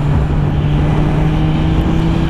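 A Kawasaki Z1000 motorcycle with a large collector and dB-killer baffles in its exhausts, ridden at steady speed, giving a loud, continuous close-up engine and exhaust drone with a low steady hum and wind rush.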